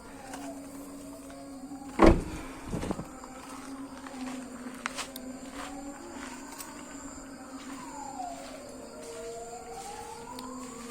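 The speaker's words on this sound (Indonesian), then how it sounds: "Untuk Yaris dan Jazz sama-sama bisa up and down power windowsnya saat kunci dimatikan sebelum pintu" Power windows on a Honda Jazz and Toyota Yaris run up and down with the key off, a faint motor whine rising and falling in long sweeps, with a loud thump near the start.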